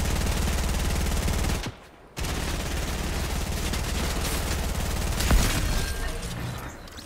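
Sustained rapid gunfire from an automatic weapon in Fortnite rattles almost continuously, with one brief pause early on, then the dense firing resumes at a steady loud level until the end.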